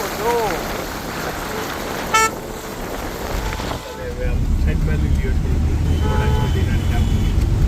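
Heavy rain with hail pours down on a highway on Kuvadva Road, Rajkot, with a steady broadband roar alongside passing traffic, a short horn toot, and people talking over the noise.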